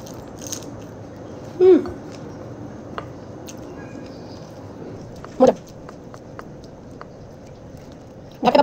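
Someone eats a wedding-style whole chicken roast with pulao, making a few sharp, close bites and crunches spaced several seconds apart over a quiet room background.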